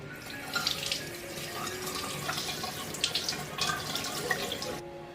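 A piece of half-lean pork foreleg is rinsed under a running kitchen tap, producing steady splashing water into a sink with uneven surges and gurgles before the flow cuts off.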